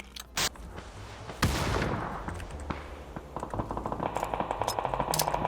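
Gunfire rings out in the battle royale game PUBG: a few isolated sharp shots and a heavy blast, then rapid automatic bursts rattling steadily toward the end, moderately faint overall.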